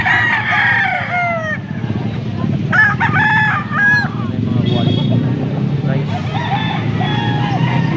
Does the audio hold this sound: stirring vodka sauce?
no